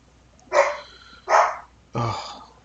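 A dog barks three times at a measured pace, each bark short and fairly loud, heard from a moderate distance against a quiet indoor background.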